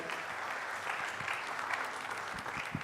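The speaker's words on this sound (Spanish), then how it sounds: "Un aplauso, por favor." Audience applause at a migration conference in Chile, moderately faint, even clapping from a seated crowd lasting a few seconds.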